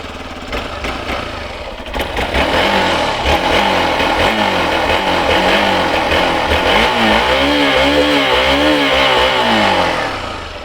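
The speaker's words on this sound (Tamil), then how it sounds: "ஸோ இப்போ இந்த வண்டியோட எக்ஸாஸ்ட் நோட் பார்த்துருவோம்." Hero Xpulse 200 4V motorcycle, 2022 model, with its exhaust note close by: a steady idle that builds into repeated revs, the engine pitch rising and falling in waves, loud and without speech.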